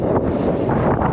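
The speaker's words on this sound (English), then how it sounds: "very, very windy" Strong wind buffets the microphone in a steady, loud roar with gusting surges, no voices present, on the summit of Rabun Bald mountain trail.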